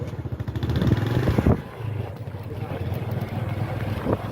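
A motorcycle engine rumbles back to life after stalling, a close, throbbing low drone that surges and settles while wind buffets the microphone and a voice talks over it.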